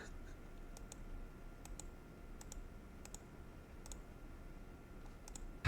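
Light, quick keyboard clicks come in loose clusters, about a dozen taps in all, faint and close over a low steady hum.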